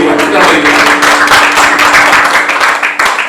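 A church congregation at a GBI Miracle Service in Batam claps together loudly and steadily, a dense sustained patter of hands under a held musical tone and some voices.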